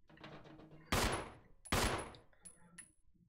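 Two loud, sharp gunshots go off in Resident Evil, about a second apart, each with a short reverberant tail. Fainter clicks and ambient game sounds fill the gaps between them.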